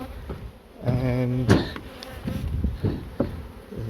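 Bees from a relocated carport beehive buzz steadily around the hive, a continuous insect drone with a louder close pass, under occasional handling knocks and a brief spoken word.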